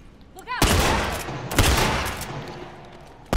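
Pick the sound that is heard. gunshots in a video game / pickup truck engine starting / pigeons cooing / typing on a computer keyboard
gunshots in a video game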